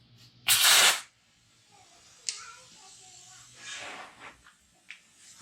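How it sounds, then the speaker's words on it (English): A short, loud burst of compressed air hisses from a nozzle pushed into the oil fill tube of a Cub Cadet 54-inch ZT1 mower, followed by fainter gurgling and soft hissing puffs. "stick nozzle in the fill tube, rag over it, give it just a little bit of air, and it'll pump all out of there"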